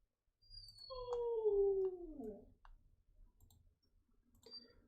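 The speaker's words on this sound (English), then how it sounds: "My dog is a wooing in the background." A pet dog howls in a long, falling wail indoors, swelling loudly for about a second and a half before trailing off, followed by faint thumps and a brief high whine.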